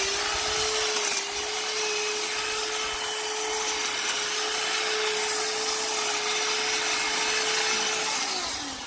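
A powered trimmer runs continuously while cutting back a bush in a yard, a loud, steady motor whine with rough cutting noise, close to the listener throughout with no talking.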